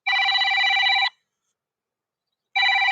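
A smartphone paired with a Fitbit rings for a weekly reminder. The electronic ringtone sounds in two loud bursts, the first about a second long and the second starting after a gap of silence. No one talks.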